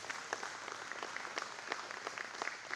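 An audience at a men's breakfast applauds, a steady wash of many hands clapping, moderately distant and continuous for the whole stretch.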